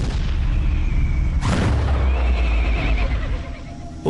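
A Civil War cannon shot booms loudly amid a dense battle din, its sharp blast at mid-clip followed by a lingering low rumble, with a horse whinnying through the chaos.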